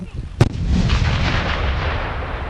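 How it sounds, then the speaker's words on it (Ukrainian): A single powerful blast from an 85 mm D-48 anti-tank gun close by during artillery training, followed by a long rumbling echo rolling away across open ground. "гармаші вдосконалювали майстерність стрільби з 85 мм протитанкових гармат Д-48"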